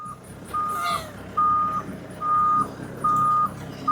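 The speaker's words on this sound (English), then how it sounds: "Oh, it's got a beeper." Forklift reversing beeper sounding a steady series of evenly spaced single beeps, about five in a row, over a low engine rumble and faint background noise.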